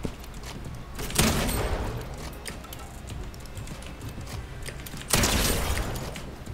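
Bursts of rapid Fortnite gunfire crackle in two loud volleys, with quieter clicking and mechanical rattling in between.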